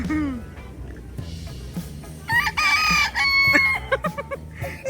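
A rooster in Diyarbakır gives a loud, drawn-out crow close by, with hens clucking and chattering before and after it.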